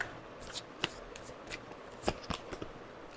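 Tarot cards being shuffled and drawn, heard as scattered soft flicks and snaps of card stock spread unevenly over a quiet background.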